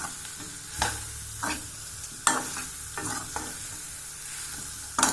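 Crushed garlic stirred into sliced plantain frying in oil for a Tamil vazhakkai varuval: a steady soft sizzle with several sharp scraping stirs of a spatula, close and alone.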